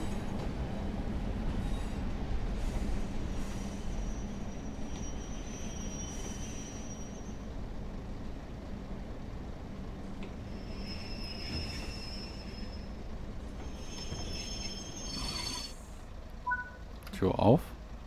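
A BR Class 142 diesel railbus in Train Sim World 4 rumbles steadily on the rails, with faint high tones and a sharp squeal of brakes near the end as it comes to a stop, a voice talking over it.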